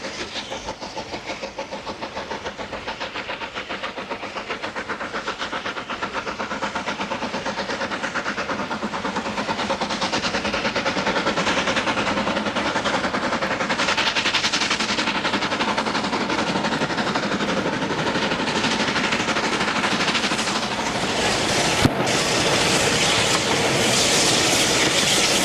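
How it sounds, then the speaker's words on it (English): A visiting Bulleid Pacific steam locomotive, an express passenger engine, hauls a demonstration freight through a station at a 1992 gala, producing a loud, continuous roar of exhaust and rolling wagons with rapid rhythmic beats, and a brief sharp knock near the end. "the visiting Bullied Pacific powers the demonstration freight through the same station"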